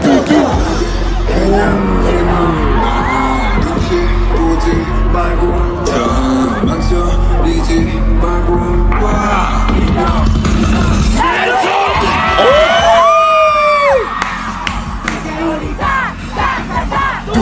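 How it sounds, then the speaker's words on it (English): A huge festival crowd at a concert at Lollapalooza Paris, many voices singing along and shouting over loud amplified music, with cheers swelling near the end. "The crowd, 10 out of 10, they are singing along with the lyrics."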